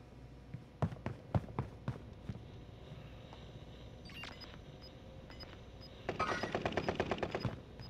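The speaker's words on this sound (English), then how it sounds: "So someone on the roof of prison shooting at me." Gunfire in the battle royale game Call of Duty Warzone, with a few sharp isolated shots early on, then a dense rapid burst near the end, partly distant and echoing from a rooftop near the prison.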